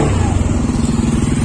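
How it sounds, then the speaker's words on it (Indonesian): An unserviced Honda Beat motor scooter engine runs close by with the throttle opened, giving a loud, rough, pulsing mechanical drone with rattling clatter. "Ini saya coba gas."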